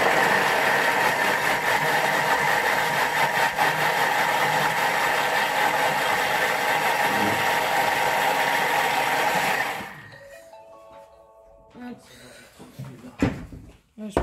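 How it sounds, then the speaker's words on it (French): Thermomix blending two tomatoes and a garlic clove into a purée at speed 6 for about ten seconds, a loud steady motor whir that stops abruptly, followed by faint clinks and handling noises. "Mes 2 tomates et du coup, une gousse d'ail. Hop. Et je vais venir mixer ça."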